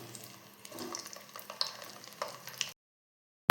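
Brinjal fries in hot oil for ennai kathirikai kara kuzhambu, giving a moderate crackling sizzle with scattered pops and stirring clinks, before the sound cuts off abruptly into silence near the end.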